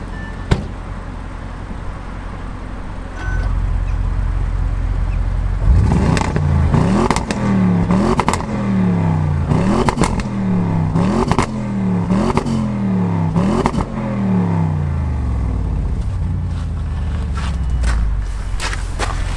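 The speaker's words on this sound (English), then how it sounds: "I love the sound of this car, literally love it. And that's in neutral, yeah?" Stock-exhaust Audi RS7 in dynamic mode, revved in neutral from a steady idle through a series of about eight sharp, loud blips that climb and fall back quickly, followed by an idle with occasional clicks.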